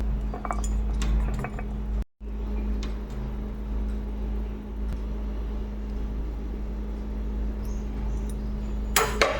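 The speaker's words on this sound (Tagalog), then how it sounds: "Ilalagay natin siya sa ating lalagyan" Cooked chicken feet adobo with pechay is served into a dish. Metal utensils clink and scrape against pots and plates in scattered close knocks over a low steady hum, with a sharp clatter near the end.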